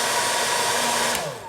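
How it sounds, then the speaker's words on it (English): A hair dryer runs steadily and loudly, set up to heat the boots of a custom action figure, with a continuous whooshing airflow and motor whine that stops near the end. "I just set up against the hairdryer like so, make sure it is balanced, and then I just turn it on"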